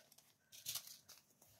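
A strip of seed tape is torn off by hand while an indoor kitchen herb garden is being planted, giving a few short papery rips and crinkles, close and fairly soft, without talk.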